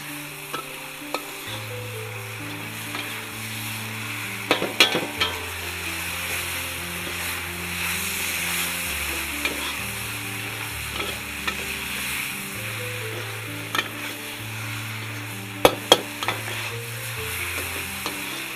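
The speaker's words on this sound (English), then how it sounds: "The heat has to be really high when you're using a wok." Pad See Ew stir-fried in a very hot wok, with loud continuous sizzling and frying plus occasional sharp scrapes and clacks of the utensil against the pan.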